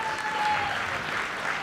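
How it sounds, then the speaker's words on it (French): An audience claps for guests at a French Communist Party event on women's equality, a dense, steady round of applause from a large crowd, close and even throughout. "On les applaudit, s'il vous plaît."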